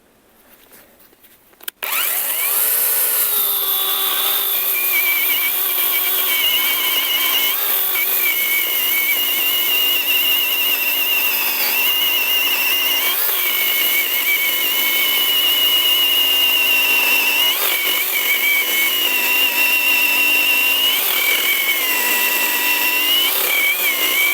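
A ProCraft PKA 42li cordless saw spins up after a short quiet moment and cuts through wood with a loud, steady, high-pitched whine, holding near and constant for over twenty seconds.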